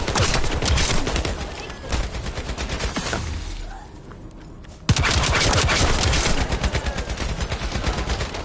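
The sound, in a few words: machine gun fire in The First Descendant video game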